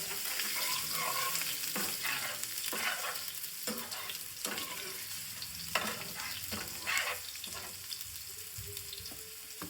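Green garlic frying and sizzling in a pan for paneer curry, with a steady hiss and repeated stirring scrapes throughout, fairly close and moderately quiet.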